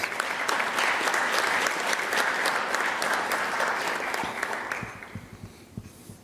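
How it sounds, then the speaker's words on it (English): An audience at a regional civics competition claps steadily for a young participant; the dense applause holds strong before thinning into scattered claps near the end. "Let's give Brady another round of applause, please."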